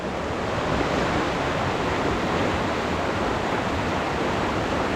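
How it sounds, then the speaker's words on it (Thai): A dense, continuous roar of rushing water, steady and loud throughout, from the Chet Khot waterfall in Saraburi, Thailand, heard from nearby. "นี่ครับน้ำตกครับ"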